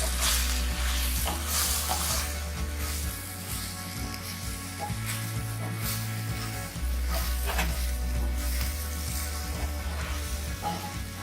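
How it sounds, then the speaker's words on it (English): Spice mix of coriander powder and raw mango powder being stirred for stuffed okra, soft scraping and faint sizzle over a loud steady low hum from a nearby burner or fan, with no one speaking. "mix everything well"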